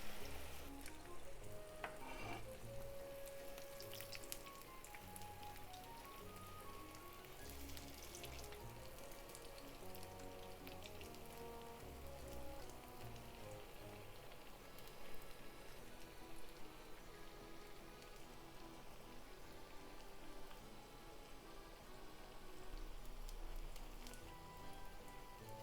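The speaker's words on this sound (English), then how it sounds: "Then fry them little over 1 minute on each side" Okra and chikuwa fishcake tempura deep frying in oil, a steady dense crackling bubble that runs on without break at a low, even level, with no voices.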